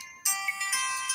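A phone ringtone plays a short electronic melody, close and clear, starting abruptly after a brief quiet moment and continuing with bright repeated tones.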